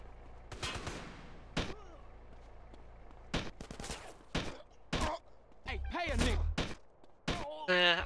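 Pistol shots from an old-style handgun in a gangster-mod video game ring out as several sharp, irregularly spaced reports. Intermittent voice sounds come between some of the shots.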